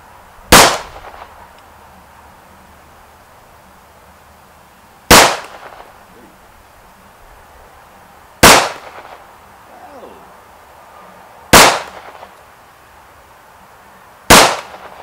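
Five sharp, loud gunshots from a SIG 1911 pistol fired at a silhouette target on a range, spaced roughly three to four seconds apart, each a crisp crack with a short decay and quiet between shots.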